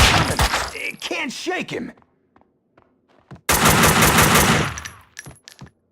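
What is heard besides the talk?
gunfire in Max Payne 2 video game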